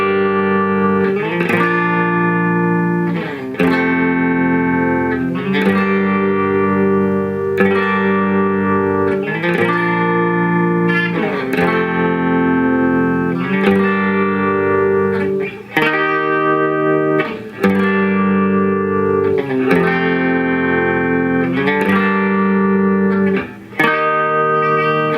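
Electric guitar with effects and distortion playing a song's chorus, steady strummed chords with rhythmic accents repeating throughout, loud and continuous, no voices.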